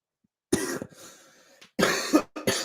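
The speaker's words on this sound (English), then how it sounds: "I've got really bad cough." Several harsh, close coughs in quick bursts, a couple of rough hacking fits separated by a short pause, with no talking over them.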